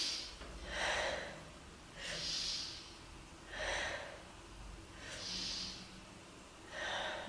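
Deep yoga breathing, close and unhurried, with four or five long airy breaths swelling and fading at a steady, relaxed pace.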